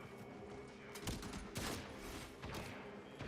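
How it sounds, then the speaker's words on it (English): Gunfire in the video game Warframe, a fusillade of rapid shots with a few louder bursts standing out over steady game background noise. "Might be someone else shooting at me."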